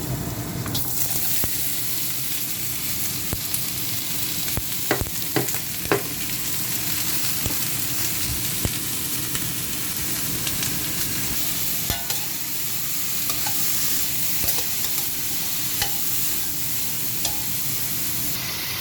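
Ginger and bone marrow frying in oil, a loud, dense, continuous sizzle with occasional spoon clicks against the pan, close and steady throughout.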